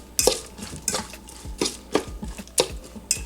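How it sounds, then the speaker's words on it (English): Jamaican rice and peas stirred in a pot, a spoon scraping and knocking against the pot in irregular strokes, close up and clear, with no voices. "stir everything together."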